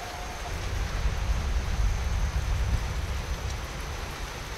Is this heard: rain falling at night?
yes